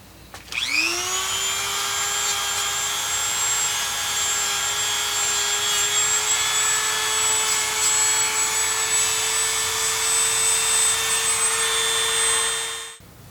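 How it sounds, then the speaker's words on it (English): Dremel rotary tool spinning up to a high steady whine while fine-tuning and polishing a Kydex knife sheath, loud and close, holding a constant pitch for about twelve seconds before winding down. "I'm just going to take out the Dremel, do some fine tuning, and maybe polish it up a little bit"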